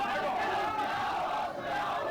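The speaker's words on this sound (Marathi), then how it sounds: "संपूर्ण सी रेल्वे स्टेशन आंदोलन करताना भरून गेलेलं आहे या ठिकाणी जोरदार घोषणाबाजी सुरू आहे" Protesters packed into CSMT railway station during a railway staff strike at rush hour, a dense crowd roar of chanting echoing continuously through the hall, steady and moderately distant.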